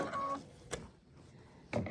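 Sewing machine stitching diagonally across pre-cut quilt strips, short faint whirring bursts at the start, middle and end, quiet and close.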